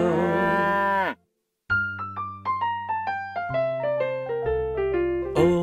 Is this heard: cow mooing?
yes